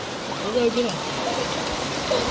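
A steady wash of rain during Mumbai's first rain of the season, continuous and close, with soft voices murmuring in the background.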